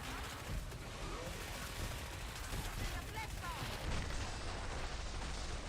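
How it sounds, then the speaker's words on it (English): Missiles fire in the video game Killing Floor 2 amid a dense, continuous barrage of booming blasts and gunfire that fills the sound throughout and grows slightly heavier toward the end. "They're shooting missiles at me."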